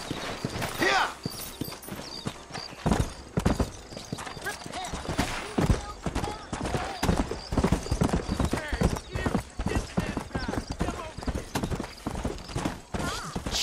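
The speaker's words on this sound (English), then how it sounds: "Alright, come on, horse." Horse hooves clip-clop steadily while riding through the open world of Red Dead Redemption 2 on PS3, with a brief whinny and someone talking over the rhythmic, close hoofbeats throughout.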